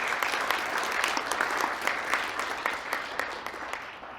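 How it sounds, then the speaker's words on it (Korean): Warm, steady applause from a seated seminar audience welcoming a Buddhist monk presenter at an academic Buddhist seminar, a dense even patter of many hands that fades slightly toward the end. "큰 박수로 환영해 주십시오"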